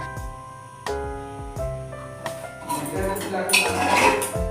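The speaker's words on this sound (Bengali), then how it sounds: "এটাকে ডালটাকে ঢাকা দিয়ে রাখবো" A lid goes onto a cooking pot of finished dal in a home kitchen, a few sharp metallic clanks and clinks of pot and lid ringing out close by, with scraping and rattling building toward the end.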